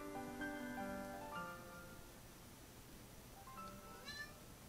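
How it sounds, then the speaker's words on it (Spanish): A cat meows to be let out, giving a couple of clear, quiet meows near the start and a thinner cry near the end over a soft, hissy room background. "Me maulla para salir, me levanto para abrir la puerta y se pone a comer."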